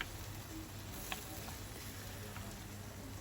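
Diced, peeled tomato sautés in a pan as liver is cooked. A faint, steady sizzle and crackle goes on without a break, with a few small ticks and no voices.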